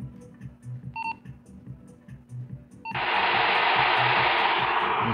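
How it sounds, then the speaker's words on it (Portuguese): A short electronic beep from a Motorola EM400 VHF radio with a burnt diode, then its squelch opens by itself in a sudden loud burst of steady radio static hiss that keeps going. "sozinho ele abre o squelch"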